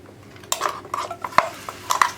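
Ground coconut paste for brinjal theeyal being added to coconut oil in a pan and stirred, giving several sharp clinks and scrapes of a spoon against the pan, close and fairly loud.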